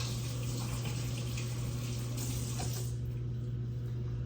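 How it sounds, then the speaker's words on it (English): Tap water runs steadily into a sink while hands are washed during raw onion ring prep, a continuous close splashing hiss over a low hum that drops in level toward the end, with no talking. "So you may want to wash your hands first."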